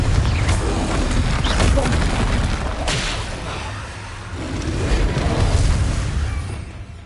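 A fiery blasting spell bursts in Hogwarts Legacy, loud rumbling explosions rolling in two heavy swells with crackling debris, close and dense.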